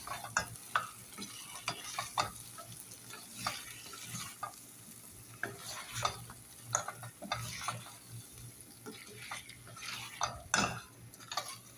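A pan of Saudi kabsa is stirred during cooking, soft scraping and clinking of a utensil against the pan over a faint sizzle, in quiet irregular strokes.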